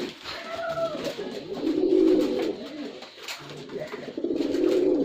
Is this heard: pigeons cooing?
yes